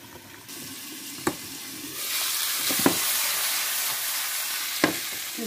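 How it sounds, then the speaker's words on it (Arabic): Spinach sautéing in a pan with a little oil, salt, cumin and garlic for a zucchini lasagna. After a quieter start, a close, steady sizzle swells up, broken by a few sharp clicks from stirring. "شحرتهم غير شوية الزيت والمليحة والزيرة وهاد التومة"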